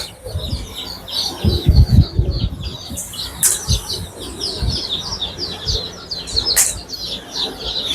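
Day-old chicks at a poultry hatchery chirp in a dense, continuous high twittering chorus, with low thumps and handling bumps underneath and a few louder peeps standing out.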